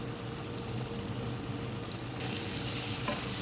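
Spice masala with tomatoes roasting in a pan for chana biryani, a dense continuous sizzle that grows slightly louder partway through, close up and with no talking.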